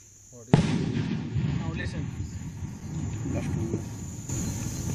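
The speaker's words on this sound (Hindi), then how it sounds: "ये स्टन ग्रेनेड ब्लास्ट किया।" A non-lethal stun grenade set off during a security operation in Koraput, Odisha: one sharp, loud blast half a second in, followed by lingering rumbling noise and murmuring background sound.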